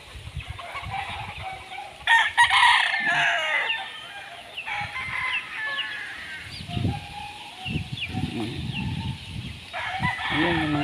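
A flock of backyard roosters and chickens, with several roosters crowing loudly in turn over steady clucking and cackling close by, in a lively outdoor setting.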